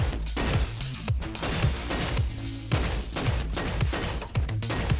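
Rifle fire in the video game Robo Quest, a string of rapid, punchy shots in irregular bursts with sharp crashes and thuds mixed in, loud and close.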